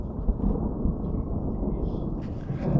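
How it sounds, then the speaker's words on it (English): Thunder from an approaching storm cell over the Henrys Fork River on the Idaho–Wyoming border, a deep continuous low rumble rolling through the whole stretch, loud and heavy, with no speech. "The thunder and lightning is real. It actually shakes the ground"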